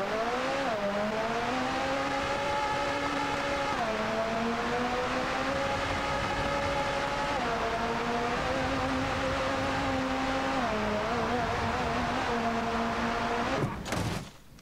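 A McLaren engine drones and revs steadily in BeamNG Drive while the car crosses reverse speed bumps, its pitch stepping up and down through gear changes, loud and continuous with no talking.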